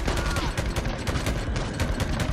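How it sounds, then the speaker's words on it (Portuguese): Dense, continuous gunfire from the video game Days Gone, a rapid volley of loud shots packed close together for the whole stretch with no pauses. "Preciso dar uns 20 tiros pra causar esse dano."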